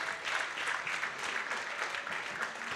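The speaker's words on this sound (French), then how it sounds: "Merci de les applaudir." Audience applauding conference panel speakers at the close of a round-table session at the Rencontres d'Aix-en-Provence economic forum; steady, dense clapping from a sizeable room holds at an even level throughout.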